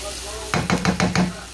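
Small champignon mushrooms frying with onion in a pan, a faint sizzle that turns into four or five rhythmic stirring knocks and scrapes of a utensil against the pan, close by.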